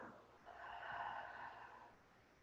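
A single slow exhale during a beginner hatha yoga session, a soft, breathy rush that swells and fades over about two seconds, faint and close.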